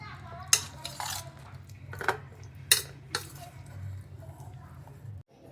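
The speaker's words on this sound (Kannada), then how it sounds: "ಕಲಿಸ್ಬಿಟ್ಟು ಮುಚ್ಚಿಡ್ತೀನಿ." Paneer being mixed with curd in a bowl before it is covered, heard as scattered sharp clinks and scrapes of a spoon against the bowl over a low steady hum, close by.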